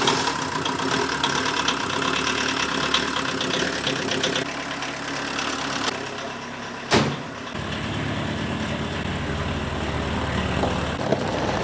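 A small diesel rig engine with a suspected failed glow plug solenoid idles in a steady, close, low rumble, with one brief sharp knock partway through and no talk.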